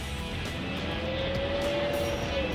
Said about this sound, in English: Oh, I wheel hopped that time, but I still got out ahead of him.